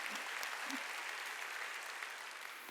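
Church congregation clapping together during a Sunday worship service, a steady, dense wash of many hands, fairly faint and unbroken throughout.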